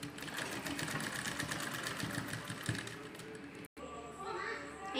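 Close, continuous whirr of a sewing machine stitching the side seam of a jute shopping bag, with speech and children's voices in the background and a brief dropout near the end.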